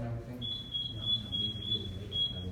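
Fire alarm beeping in a school setting, a steady high electronic tone pulsing repeatedly over low background rumble and murmuring voices.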